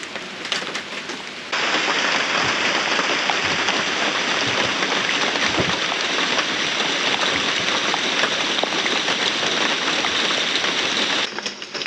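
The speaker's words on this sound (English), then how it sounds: "Well, the rain's not quite gone." Rain keeps pouring over a muddy outdoor work area, a loud, dense, continuous wash of drops that swells in after a quieter opening and drops off sharply near the end; no speech.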